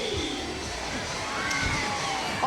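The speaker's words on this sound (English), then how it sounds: "all kinds of fans here at the Capital City Stadium" A baseball crowd in the stands at Capital City Stadium during a 1995 Colorado Silver Bullets versus Columbia Bombers game: a steady, loud wash of fan chatter and murmur with faint cheering, mixed with the broadcast's ambient noise.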